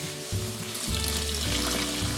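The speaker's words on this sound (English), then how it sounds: "fill your pumpkin up with water" Water runs into a hollowed, carved pumpkin with a steady rushing splash and a gurgling, hollow tone. It is close and continuous, with no voices.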